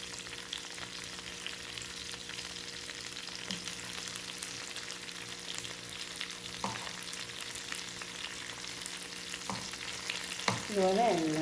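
Shrimp sizzle steadily in a hot pan as they are turned and stirred, a continuous close frying hiss with a few soft scrapes and a louder clatter at the end, no talking.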